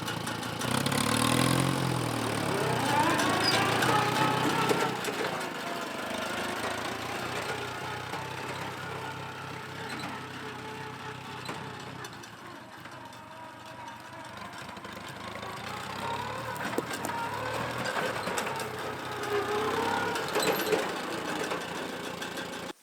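An International Harvester 284 tractor engine is revved in high reverse gear, a steady mid-pitched mechanical drone that stays loud and continuous for over twenty seconds, rising in spots as throttle is applied, with no talking.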